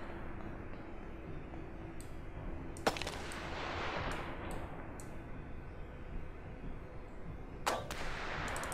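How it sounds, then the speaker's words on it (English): Two sharp, distant-sounding sniper shots crack out in This War of Mine, the first near the three-second mark and another several seconds later, each with a brief echoing tail over a quiet war-torn ambience. "The sniper shot him."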